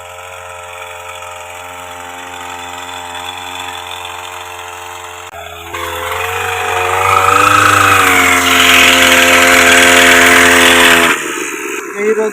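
A motorized pesticide sprayer runs steadily in an okra field, its engine droning, then rises into a louder, hissing, high-pressure spray for several seconds before dropping back, with no speech over it.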